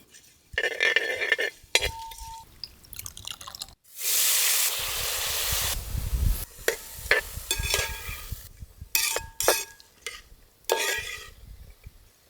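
Pepper, fennel, cumin and banana stem are tempered in a little hot oil, giving bursts of close sizzling frying alongside stirring and scraping clatter in the pan.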